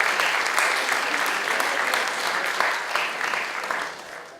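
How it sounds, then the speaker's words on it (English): Sustained applause from a crowd, steady and fairly loud throughout, tapering slightly toward the end. "One more round of applause."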